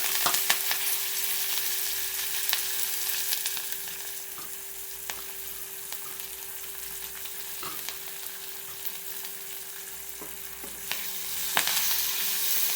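Onion, green chili and curry leaves fry in a pan with a continuous crackling sizzle, broken by occasional sharp ticks and stirring scrapes.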